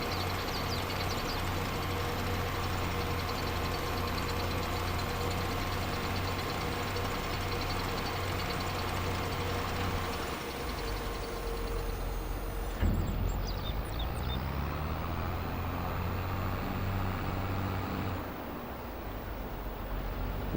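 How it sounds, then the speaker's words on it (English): A tractor engine in Farming Simulator 22 drones steadily while spreading silage in a bunker silo, a low constant rumble that briefly dips and shifts in pitch partway through before settling again. "We'll spread it a little bit with the tractor there."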